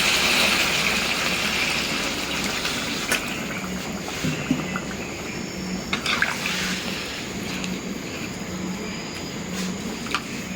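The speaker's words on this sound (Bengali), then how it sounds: "একটু ঝোলের পানি দিয়ে দিচ্ছি" Water is poured into a spiced curry of radish and dried fish simmering in a pot, making a continuous rushing, bubbling pour that fades into softer liquid sounds with a few scattered clatters.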